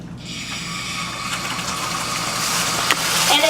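Hot caramel mixture bubbling and hissing in a pan as Kahlua is poured in slowly, a steady close sizzle that grows louder toward the end.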